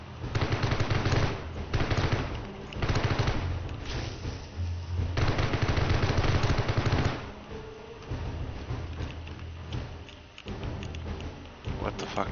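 Submachine gun fire in the survival game 7 Days to Die, with sustained rapid bursts of automatic shots that come in repeated strings and short pauses, loud and close. A voice talks over parts of it.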